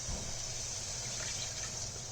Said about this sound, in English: To this, what we'll do is we'll add 2 cups of water.